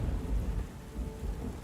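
A thunderstorm with steady rain and deep rolling thunder rumbles through a storm-lashed coastal village scene in the video game Book of Hours, a continuous low roar with no voices.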